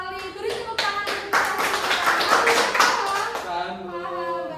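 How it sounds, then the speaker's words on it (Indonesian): A class of second-grade primary school children clap together in their classroom. The claps come fast and rhythmic, in close bursts, with children's voices mixed in. "Beri tepuk tangan untuk"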